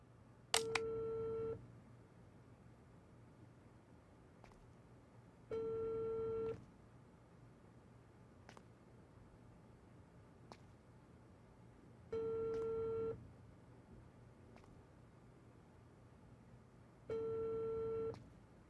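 Phone ringback tone from a video game call that goes unanswered: four evenly spaced, faint electronic tone bursts, each about a second long, separated by several seconds of quiet.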